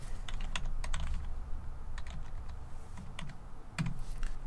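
Password being typed on a computer keyboard during a console login to a Victron VenusOS device: scattered, fairly quick key clicks in short bursts over a steady low background hum, with no talking.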